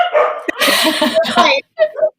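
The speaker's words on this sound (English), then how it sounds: "The dogs are going crazy." Several dogs bark and yip excitedly indoors in a loud, close burst, with the barking overlapping and breaking off into a couple of short yelps.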